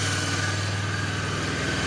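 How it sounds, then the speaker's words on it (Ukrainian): Honda CB 500 motorcycle engine idling cold on choke at about 2,500 rpm, a steady, even drone heard up close with no talk over it. "Дві з половиною тисячі обертів на підсосі."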